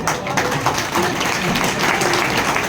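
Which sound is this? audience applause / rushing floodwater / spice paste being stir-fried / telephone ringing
audience applause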